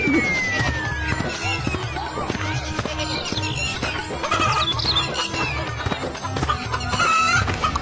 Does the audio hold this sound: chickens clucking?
yes